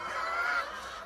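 Hens at a desi poultry farm in Punjab give a continuous, fairly quiet honking cackle that holds for about a second before fading slightly.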